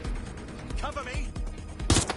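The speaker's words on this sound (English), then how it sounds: "I'm taking fire!" Gunfire during a Watch Dogs Legion firefight, rapid shots mixed with other action sounds and a loud burst near the end, with a voice talking over it.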